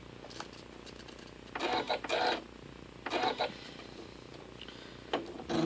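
A sewing machine set to a 1.8 stitch length pieces a 3D-look quilt block with a 1/4 inch foot, running in three or four short, loud bursts with pauses between, slowing on the last run.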